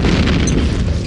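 A grenade detonates in a multiplayer shooter, a loud deep boom with a rumbling tail that fills the moment, no talk over it.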